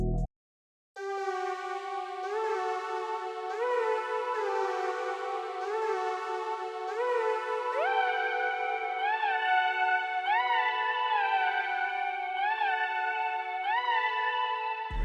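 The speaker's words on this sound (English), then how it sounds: "With the effects sound like this" Gliding synth line run through EQ and a limiter, its repeating notes sliding upward in a steady pattern after a brief pause at the start, louder and brighter than the dry version, with no one talking.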